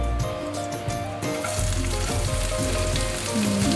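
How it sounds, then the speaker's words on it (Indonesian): Onions hit a hot frying pan and burst into loud, crackling sizzling that stays strong and steady, with a few clinks of stirring. "Ini momen-momen pas bawang masuk ke dalam wajan nih seru banget karena suaranya emang senikmat itu"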